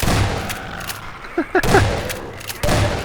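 Automatic turret gunfire in the video game Half-Life 2, heard as several loud rattling bursts separated by short gaps, with a few sharp metallic clicks between them.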